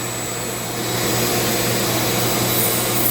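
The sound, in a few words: Dremel 80 grit sander carving a wooden staff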